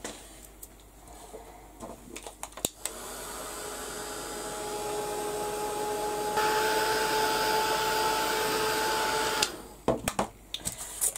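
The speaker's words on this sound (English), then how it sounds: "I'm going to give this a quick blast with the heat gun because I want this to dry." A heat gun blasts hot air to dry oxide paints on a mixed media tag, giving a steady, loud whooshing roar with a motor whine that runs for several seconds, rises in pitch partway through, then cuts off amid small handling clicks.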